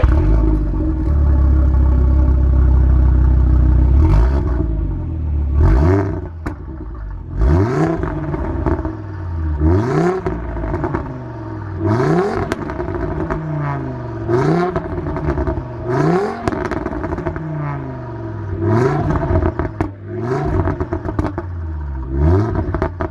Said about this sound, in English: You can't beat the sound of the iron block 5-cylinder.